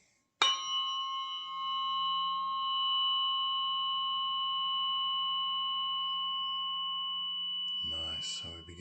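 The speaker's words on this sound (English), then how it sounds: "till there's only the sound of my forks" Tuning forks struck once and left ringing in a calm Samhain sound-healing session, pure steady tones sustaining and slowly decaying for several seconds, with a soft low hum beneath and a brief burst of talk at the very end.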